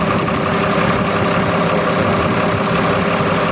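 A Fiat tractor engine, freshly overhauled, idles loud and close, a continuous rough, knocking drone with steady vibration throughout.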